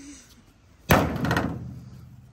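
A Chevrolet Silverado's gas door is smashed in a single loud, sharp impact, followed by a brief metallic rattle and ringing that decays over about a second against a quiet background.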